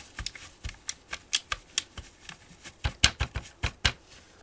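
Bumper button on an Xbox Elite Series 2 controller clicks repeatedly, about a dozen and a half sharp, close clicks at an uneven rhythm, alone without talk.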